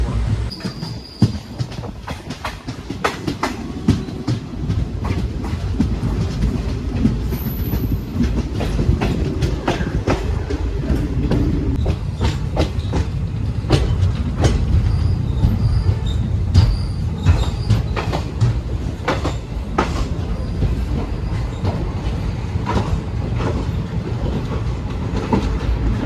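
Uzhavan Express passenger train rolling into Mayiladuthurai Junction in the Tamil Nadu delta region, a steady loud rumble with clickety-clack wheel beats and occasional high wheel squeals throughout, no voices.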